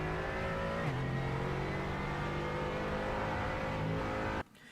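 A race car engine at Silverstone holds steady on full throttle, a loud sustained drone that shifts pitch partway through, then cuts off abruptly near the end.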